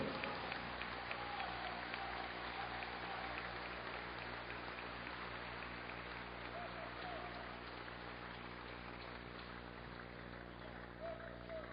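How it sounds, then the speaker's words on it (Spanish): Church congregation applauding during a Spanish-language service, a faint, distant wash of steady clapping that rolls on evenly without any voices standing out. "Alabe la gloria del Señor y dele un fuerte aplauso."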